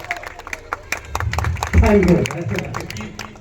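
An audience claps at an Urs gathering in Bel village, Aurangabad, Bihar. The scattered, rapid claps run throughout under a loud, amplified voice.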